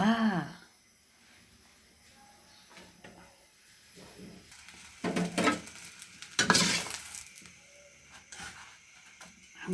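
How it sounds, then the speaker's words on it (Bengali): Eggs frying in a pan in a home kitchen, with soft scraping and clinking of a utensil against the pan, faint sizzle beneath, and louder bursts of stirring and metal clatter in the second half. "ডিম ভেজে নিলাম।"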